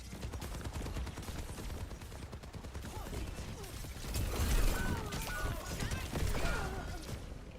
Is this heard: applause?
no